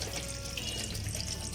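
Water poured into orange and lemon juice, a soft continuous low trickle and splash, faint and steady throughout with no talk.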